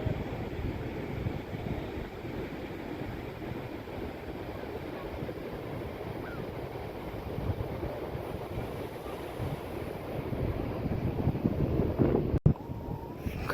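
Steady wind and surf roll along a Konkan coast beach, a constant broad wash of breaking waves with gusty rumble, fairly distant and even throughout, with a brief thump near the end.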